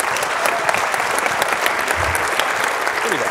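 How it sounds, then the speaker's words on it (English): A conference audience at a keto event in Salt Lake claps after a talk on cholesterol, with sustained, dense applause from a crowd filling the whole moment and a few faint voices underneath. "Let's give Dave another round of applause."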